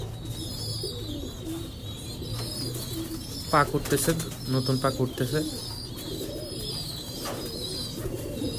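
Pigeons, cream-eyed cock and hen birds kept for sale, coo softly in low repeated murmurs, with a burst of wing flutter or scuffling in the middle and someone talking over them.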